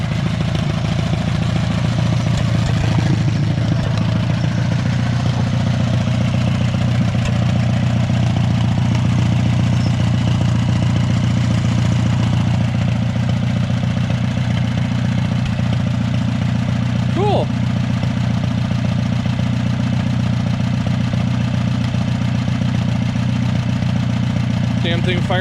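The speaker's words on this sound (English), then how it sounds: "It's a good sounding little tractor." A cheap little tractor engine idles steadily after starting on choke at about half throttle, a loud, even low rumble running throughout with a brief metallic clank partway through.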